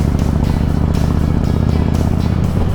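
A heavy touring motorcycle of just under 380 kilograms, ridden on a scenic road, gives a steady, loud engine drone with rumbling low end and wind buffeting throughout, recorded close from the rider's helmet.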